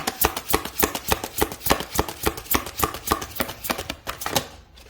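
A deck of tarot cards is shuffled by hand in a quick series of sharp, regular riffling taps, close and fairly loud, about three per second, then fading at the end.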